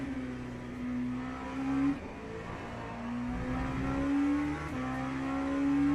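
A V8 race car engine in the racing game F1 25 drones steadily at high revs, pitch climbing through gears with brief dips at shifts, loud and continuous with no voices.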